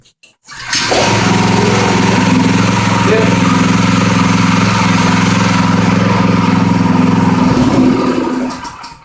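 A Predator 212cc 6.5hp small engine starts without choke at half throttle: a brief pull, then it catches and runs loud and steady for about seven seconds before cutting off and winding down, close by.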